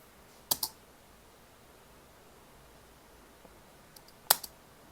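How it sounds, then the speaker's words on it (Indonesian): The space bar on a computer keyboard clicks sharply during Final Cut Pro X playback, with two quick keypresses early on and another pair near the end, separated by near silence. "Atau kita juga bisa menggunakan tombol space di keyboard."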